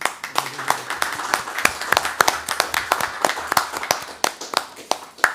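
Scattered applause at a health webinar event, individual claps heard as distinct sharp, uneven hits from a small group, close and continuing for several seconds.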